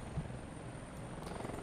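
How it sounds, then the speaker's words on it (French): Steady rotor drone of a helicopter in the Global Outbreak Doomsday Edition PC game, a continuous loud whirring hum with no breaks. "On appelle l'hélico et on se casse."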